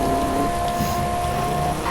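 Steady, close rain pours down in a car-driving video game, a dense even hiss that fills the whole clip with no break or talk.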